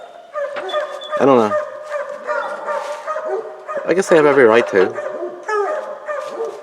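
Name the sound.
hunting dogs barking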